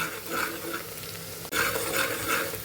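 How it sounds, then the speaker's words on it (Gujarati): Spice masala added to onions frying in a pan, a close continuous sizzle with stirring scrapes and a brief sharp knock midway, no talking. "પિંક કલરની આપણી આ ડુંગળીનો કલર આવી જાય એટલે આપણે આમાં જે મસાલો તૈયાર કરેલો એ આપણે ઉમેરી દેવાનો છે"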